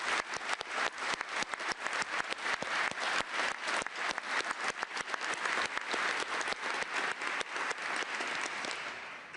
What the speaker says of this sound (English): I knew that Gwyneth would get the biggest clap.